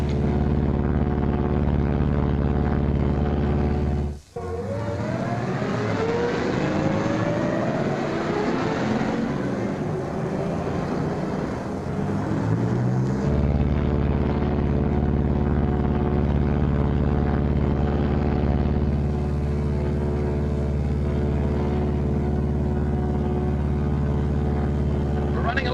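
Martin B-26 Marauder, 1944, flying on a single engine, a steady loud droning hum with strong low harmonics throughout, a brief dropout, then a sweeping rising whine for several seconds before the drone settles again.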